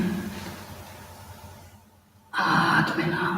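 A yoga practitioner draws in one deep breath, a close, airy inhale that starts abruptly after a quiet pause and holds strong to the end, following a breathy, murmuring stretch.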